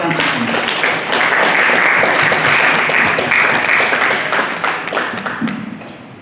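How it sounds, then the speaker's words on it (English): An audience at a real estate and infrastructure conference applauds its panelists, a loud sustained burst of many hands clapping that swells and then gradually tapers off. "a round of applause to my panelists"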